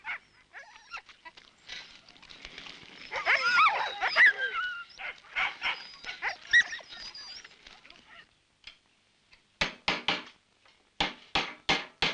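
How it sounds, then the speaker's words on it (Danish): Greenlandic sled dogs in a pack yelping, whining and whimpering with rising howl-like cries, then a run of sharp, evenly spaced barks near the end, fairly close against otherwise quiet surroundings. "Man må huske, at hundene ikke er almindelige husdyr, men i virkeligheden halvvilde rovdyr."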